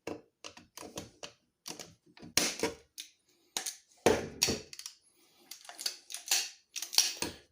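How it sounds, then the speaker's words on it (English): Jilson hand shears cut a window into a Tonka Sportsman truck topper in a string of crisp, close snipping crunches that come in short bursts with brief pauses between. "Now guys, my Jilson shears"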